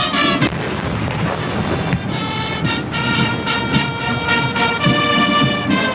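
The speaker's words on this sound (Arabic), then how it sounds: "شايفين المدفعية بتضرب 70 طلقة" Loud booming blasts of a 70-round artillery salute ring out in a rough series, mixed with Algerian military band music and crowd noise in the open air at a revolution anniversary celebration.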